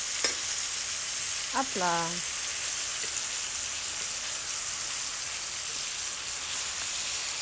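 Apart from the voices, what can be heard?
figs browning in a pan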